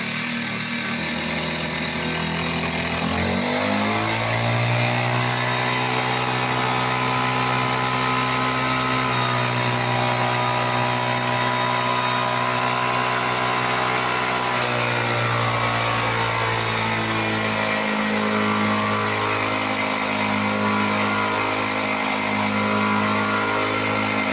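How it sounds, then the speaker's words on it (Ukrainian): A generator engine starts up and revs, its steady drone climbing and falling in pitch as the throttle is opened and eased, loud and close throughout. "Там розпускаючи генератор, даємо газу"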